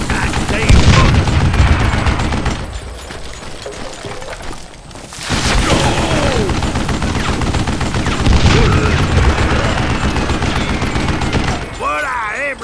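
Gunfire from the Call of Juarez Gunslinger video game, dense volleys of shots and bullet impacts filling nearly the whole stretch with one brief lull, mixed with game music and effects and a voice speaking over parts of it.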